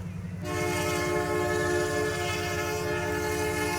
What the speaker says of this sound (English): Heck yeah, here she comes.